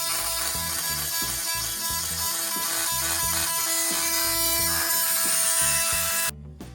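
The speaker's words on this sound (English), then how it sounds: "let's cut these nails, fastening this sill plate down to the concrete" A power saw cuts through hardened nails that fasten a wooden sill plate to a concrete slab, making a loud, close, buzzing grind that pulses in a steady rhythm with a sustained metallic whine.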